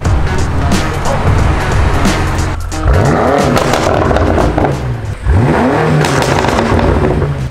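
Loud sports car engine roaring and revving up through gears, with pitch rising repeatedly between shifts, close and continuous.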